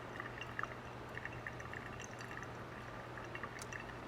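Coffee drips through a flat bottom brewer in a quiet room, faint scattered droplets landing one after another over a low steady hum.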